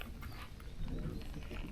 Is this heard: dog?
yes